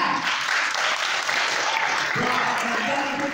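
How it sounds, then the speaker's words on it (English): An audience at a live theatre show bursts into sustained, dense applause for a performer, steady clapping filling the room throughout with faint crowd murmur. "Big round of applause for Sam."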